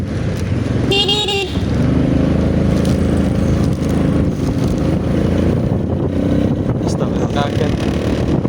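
A short horn honk sounds early on over the steady, close drone of an engine and road noise.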